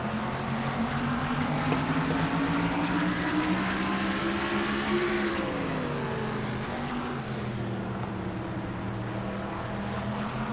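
Stock cars in a NASCAR-style racing video game roar into turn one, a dense, steady engine drone with rising and falling pitch as the pack bunches together, loud and continuous throughout.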